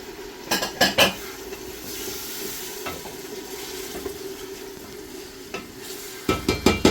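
Tomatoes frying for couscous in a pot give a steady sizzle while a metal utensil stirs and scrapes against the pot in bursts of clinks at the start and end.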